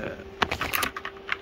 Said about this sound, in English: I am pressing the BIOS key.